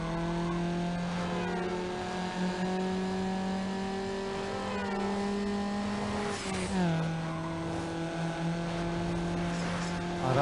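Racing car engine in Need for Speed Underground, a loud steady harmonic drone that rises and dips with gear changes and revs, with a brief tire-squeal-like sweep midway.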